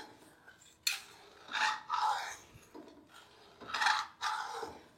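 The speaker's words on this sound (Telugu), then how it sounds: "ఈ పాలని ఈ కడాయిలో వేసి గీకు గీకు, బాగా గీకు, మంచిగా గీకు." Milk being scraped and stirred in a kadai, a metal spoon rasping against the pan in several distinct bursts with quieter gaps between, close and moderately loud, no voices.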